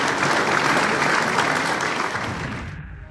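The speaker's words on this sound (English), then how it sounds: "Huge round of applause, please, sir." Studio audience applause at the close of a business interview show, dense and even clapping that holds steady, then tapers off and fades out toward the end.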